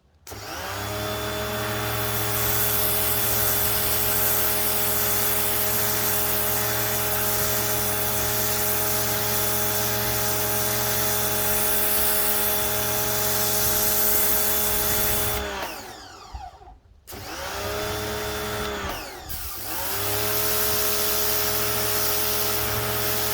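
A Titan pressure washer with a patio cleaner attachment scrubs flooring without chemicals, producing a loud, continuous droning whine with strong tonal hum that briefly cuts out twice before resuming.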